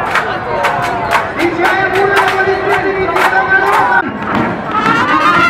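A crowd claps and cheers at the opening of the main Maslenitsa festival on Sovetskaya Square, bursts of applause and voices filling the space while an amplified announcer talks over the lively, loud, continuous noise.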